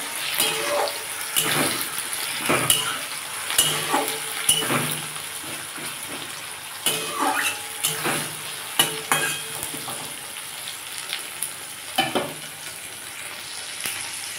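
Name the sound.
onion and tomato frying in a pan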